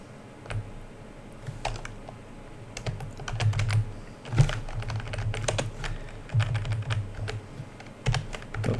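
Rapid typing on a computer keyboard while writing C# code, irregular bursts of close, crisp key clicks and thumps with brief pauses between runs.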